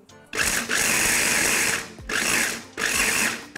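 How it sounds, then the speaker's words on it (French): A blender whirs loudly through a spice marinade of chili powder and salt for Haoussa brochettes. It runs in three bursts of high, buzzing motor noise, each stopping briefly before the next starts. "Et maintenant, je vais mixer."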